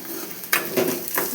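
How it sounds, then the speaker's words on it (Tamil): Onions sizzle and are stirred in a hot pan, with crackling frying noise and a few scraping stirs, close up, no voices. "வெங்காயம் நல்லா வதங்கி வரணும்"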